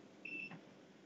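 A PetLibro automatic cat feeder gives one short, high electronic beep, faint and alone in a quiet room.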